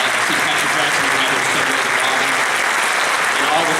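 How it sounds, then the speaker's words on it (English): Audience applause at a presidential forum in the Brookland Baptist conference center, a dense, steady round of clapping from a large crowd sustained throughout. "Y'all can applaud for him."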